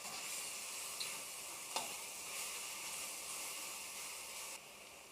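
Shiitake mushrooms stir fry in a pan, a soft continuous sizzle with a couple of faint clicks of utensil against metal, quiet and close.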